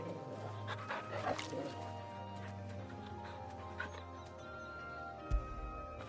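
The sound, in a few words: dog barking and whimpering, from video game Final Fantasy XVI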